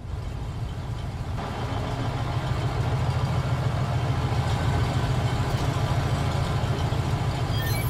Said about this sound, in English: It was a fire engine.